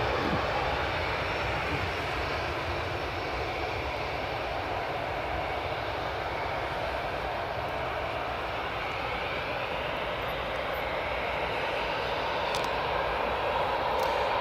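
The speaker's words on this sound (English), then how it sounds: "Another Airbus A320 in that beautiful sunlight." An Airbus A320 departing Newcastle Airport on a sunny day, its jet engines producing a loud, steady broadband roar that holds throughout with no talk.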